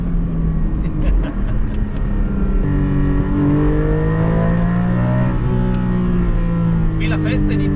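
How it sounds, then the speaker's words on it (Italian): Porsche 718 Cayman GT4 flat-six engine revs hard from inside the cabin, its pitch climbing and dropping through gear changes over a constant road rumble. "questi flat 6 vanno tirati fino al limitatore per poter assaporare al meglio le prestazioni"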